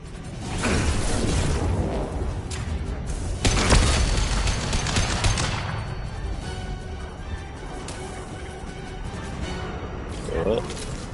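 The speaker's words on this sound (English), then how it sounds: "Watch out, flashbangs!" Flashbang grenades go off during a Mass Effect 2 firefight: loud booming bursts with crashing, mechanical clatter that fade into lingering combat noise, with voices over the action.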